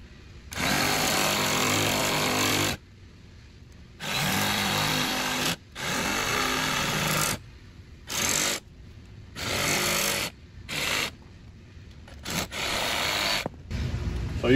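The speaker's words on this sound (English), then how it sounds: "I'm just gonna hack at it with the sawzall" A reciprocating saw hacks through a dirt bike tire still mounted on its rim, loud close-up bursts of a few seconds each separated by short pauses, with briefer cuts in a choppy stop-start rhythm toward the end.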